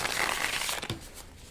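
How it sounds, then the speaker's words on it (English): A tarot card deck being shuffled off the desk, soft papery riffles and rustles for most of the stretch, then a brief louder crinkle before trailing off quietly. "But I'll continue shuffling here just off the desk."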